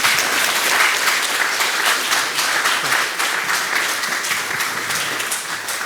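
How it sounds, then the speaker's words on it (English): Sustained applause from an audience at a book talk event, steady dense clapping throughout at a loud, even level with no voices over it. "Big round of applause for Ann here."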